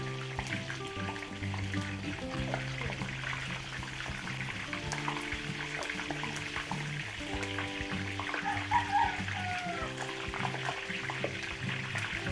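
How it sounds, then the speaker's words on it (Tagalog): Embutido, a Filipino pork meatloaf, fries in a pan, giving a soft steady sizzle and crackle under a faint background hum, fairly quiet throughout. "Prito po natin yung ating embutido."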